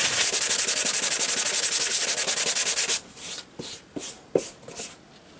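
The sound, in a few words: coarse sanding with 80-grit sandpaper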